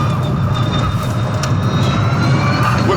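A Rimac Concept 1 electric car with four motors gives off a steady high whine with sustained tonal layers over a low rolling rumble, loud and close, with no break throughout.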